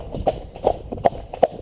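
Hooves of a ridden cob horse clip-clop in an even rhythm, four clear close footfalls over soft background noise.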